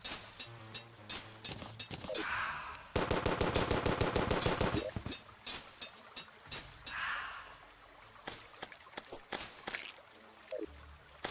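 Rapid gunfire from the Venus Magnum in the Terraria video game, with rhythmic bursts of sharp shots, one dense sustained volley in the middle, and game effects between the bursts.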